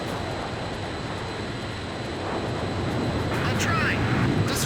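Fighter jet engine roaring at full throttle in the Ace Combat 5 video game, a steady broadband rumble that swells louder toward the end, with game dialogue and effects over it.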